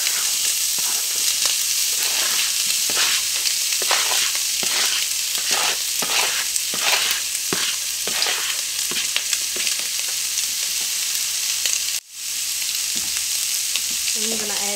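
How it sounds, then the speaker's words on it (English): Brussels sprouts sizzle and fry with browned diced bacon in a pan, a steady loud crackle broken by repeated stirring scrapes, with a brief dropout near the end. "Now that the bacon's beginning to get a little brown, I'm gonna add these Brussels sprouts in here"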